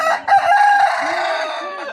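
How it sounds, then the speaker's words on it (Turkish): A rooster crows at a chicken market in Beruniy, one loud, close, drawn-out cock-a-doodle-doo that trails off over about two seconds. "Xo'roz mi?"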